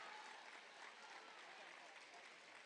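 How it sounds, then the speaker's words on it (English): Audience applause at a school speech competition awards announcement, a steady dense wash of clapping filling the whole stretch at moderate distance, with no voices rising above it. "Let's give Gidley School a big round of applause."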